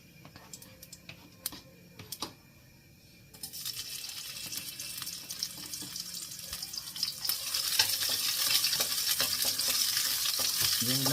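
Garlic is sautéed in oil in a pan. A few light clinks come first, then a sizzle starts suddenly and swells into a steady, loud frying hiss with occasional stirring scrapes, and no one speaks.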